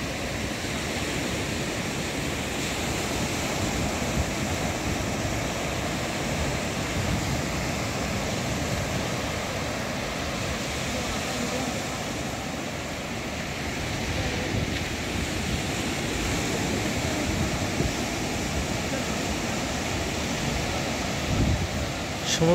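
Sea waves at a beach make a broad, continuous roar of surf, with gusty wind buffeting the microphone, steady and moderately loud for the whole stretch.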